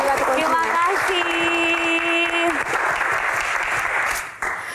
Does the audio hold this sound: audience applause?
yes